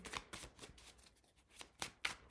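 Close-up riffling of a tarot deck: crisp papery shuffles in uneven bursts, a busy run at the start, a quieter gap, then two sharp louder snaps near the end, with no voices.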